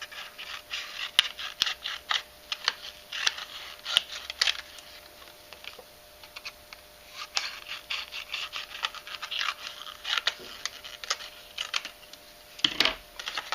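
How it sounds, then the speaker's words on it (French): Scissors snip along the sides of a photo while making a first communion invitation card, a steady run of close, crisp cuts and paper rustles with brief pauses, no talking. "Je vais découper un petit peu les côtés."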